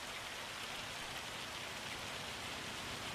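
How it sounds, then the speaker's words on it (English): Hail falling in a farm simulator game, a steady, wide hiss of pellets striking surfaces, fairly faint but even and unbroken throughout, with no voices. "Come on, stop hailing."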